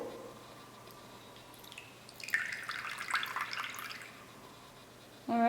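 Calcium chloride filtrate is poured into a crucible during a salt-making experiment: a soft trickling and dripping of liquid that lasts a few seconds at low volume in a quiet room, ending with a sharp clink.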